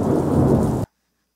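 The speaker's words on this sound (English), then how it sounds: "it's just some thunder." A thunder sound effect from an FMOD Studio test event plays as a loud, dense rumble with rain-like hiss, then cuts off abruptly into silence.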